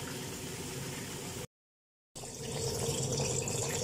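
A pot of maragsamak boiling on the stove, a steady soft bubbling hiss that cuts out briefly and then returns slightly louder and busier.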